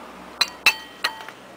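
A glass cup clinks three times against a plate in a water-and-vacuum science demonstration, with bright, short ringing taps spaced a fraction of a second apart and close to the microphone.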